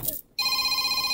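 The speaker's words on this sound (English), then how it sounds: "She has to answer her phone." A phone rings loudly and steadily after a brief burst of talk and a short pause, its bright electronic tone continuing without a break.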